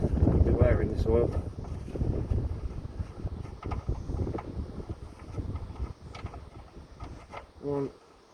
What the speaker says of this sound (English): Oh, it's getting windy.